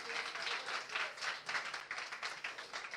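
A church congregation applauding, with faint, steady clapping from many hands sustained throughout at a distance.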